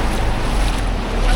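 Rising tide water washes in around a bus parked on the shore near Sindhudurg fort at Malvan, a loud, close, steady rush of waves mixed with wind buffeting.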